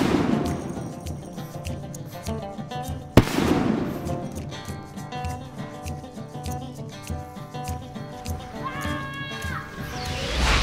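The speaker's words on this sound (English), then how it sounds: "Did Gandalf make these fireworks?" Fireworks at an outdoor party go off in scattered pops and crackles, one sharp loud bang standing out, mixed with children's voices and chatter around them.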